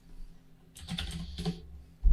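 Short burst of typing on a computer keyboard, a quick cluster of clicks over about a second, fairly close, with no talking.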